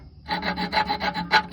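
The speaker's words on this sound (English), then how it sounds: "Now we have to carefully file down, not going too far to mess up the threads" A hand file rasps down excess metal on the threads of a bolt during an exhaust repair on a Saturn Vue with a 3.5 V6 Honda engine, giving about nine close, steady back-and-forth strokes with no talking.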